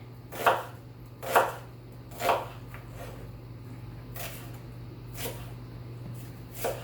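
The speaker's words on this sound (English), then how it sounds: "now I'm going to kind of cut them into like quarter, half-inch size wedges. Just kind of going around the onion." A knife cuts an onion into wedges on a cutting board, giving six distinct chops, louder at first and then softer and more spaced, over a low steady hum.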